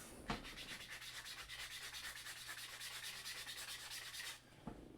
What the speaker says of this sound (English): I'm going to sand this holder a little bit too.